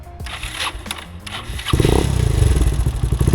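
A motorcycle in first gear is started up close: light clatter first, then the engine catches and settles into a loud, steady rumble.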